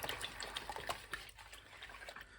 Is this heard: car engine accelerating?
no